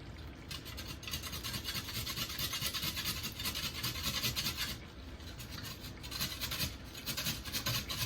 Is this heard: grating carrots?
yes